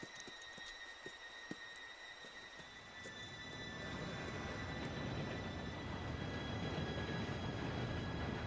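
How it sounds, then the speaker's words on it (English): A train approaches in the Red Dead Redemption 2 game: a few light clicks and taps, then a broad rumble that swells and holds steady as it draws near. "Train should be here any minute now."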